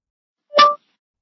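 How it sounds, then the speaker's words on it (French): A single short Google Assistant activation chime on a phone, bright and tonal, rising from silence and cutting off cleanly after a fraction of a second. "ça c'était le son d'activation de Google"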